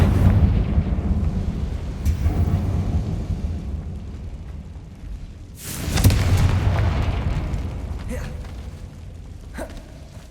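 Spell explosions from the Confringo fire spell in Hogwarts Legacy, set in a decaying catacomb, come as two deep booming blasts with rumbling tails, the second louder, followed by smaller clanks and impacts.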